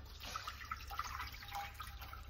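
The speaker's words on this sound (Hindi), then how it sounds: "अब हम इसमें पानी डालेंगे" Water pours into a cooking pot on a gas stove while making butter chicken, a faint, steady trickle with small dripping splashes throughout the short moment.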